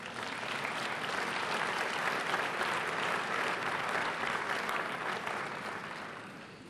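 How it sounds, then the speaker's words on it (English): An audience applauds a signing at the Transform Africa closing ceremony, with a broad wash of clapping that builds, holds steady, and then gradually tapers off toward the end. "a round of applause will be good at this particular point"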